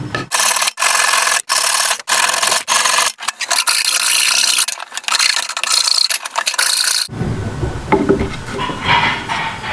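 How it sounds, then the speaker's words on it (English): Hand carving of wooden heartwood into a two-inch cylinder for a crossbow bolt holder: repeated loud rasping strokes with short gaps, then a softer, lower scraping and rubbing toward the end, close by and without talk. "Now I'm going to take the heartwood and carve it into a 2-inch diameter cylinder to fit into the hole."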